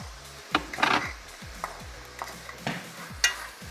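Garlic goes into a pot of boucané with pink beans cooking over a wood fire, then gets stirred: scattered scraping and clattering strokes of a utensil against the pot over a faint sizzle and a low crackling background.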